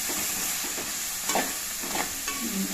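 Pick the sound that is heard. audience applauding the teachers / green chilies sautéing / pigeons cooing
green chilies sautéing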